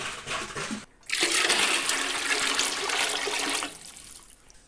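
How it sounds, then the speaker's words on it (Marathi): After a brief pause, a strong gush of water pours steadily into a cooking pot for chicken biryani for a few seconds, then tapers off into a softer trickle. "आता पाणी ओतून घेतले बघा"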